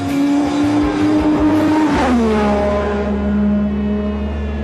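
Ayrton Senna's race car driven on a track, its engine revving loudly with a rich, high-pitched tone that rises, then drops and settles into a sustained roar.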